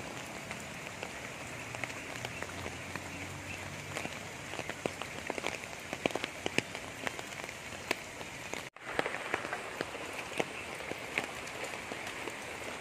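Steady rain from Typhoon Carina falls on a hard surface in a flooded backyard, with scattered distinct drops pattering nearby throughout; no voices.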